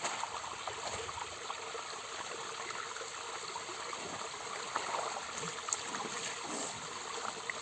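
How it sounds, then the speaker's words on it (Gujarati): Steady running water from a hose streams and trickles continuously, a broad hiss at moderate level with faint background movement and no clear talk. "અને નળી એ ચાલુ છે"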